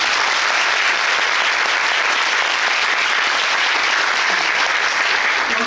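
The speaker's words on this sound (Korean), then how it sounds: "저희 제작진 팀 그리고 무대 감독팀에게도 큰 박수 부탁드립니다" Loud, dense audience applause fills a musical's closing-night curtain call, with sustained clapping for the production crew and stage management team that holds steady throughout.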